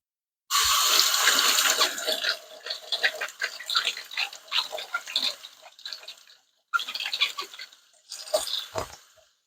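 An orange is washed under a running kitchen tap; water gushes and splashes steadily, breaking into uneven bursts as the fruit is turned, stopping briefly, then running again, close and alone.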